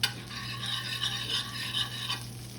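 Butter foams and sizzles in a hot pan while beef bourguignon is being cooked, a steady, close hiss with a faint crackle that holds evenly throughout.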